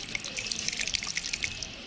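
Liquid cake batter is poured into a container, a brief, soft trickling and splashing pour heard close by with no talking.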